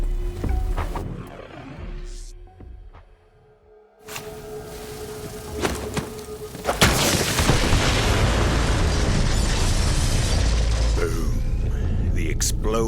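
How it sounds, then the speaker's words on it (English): A bomb explosion in Borderlands 3 goes off in a forest, a sudden deep boom after a brief quiet, followed by a long, loud rumbling roar and echo that keeps rolling through the surroundings. "The explosion echoed through the forest, and those devil riders didn't even get a chance to hit the brakes."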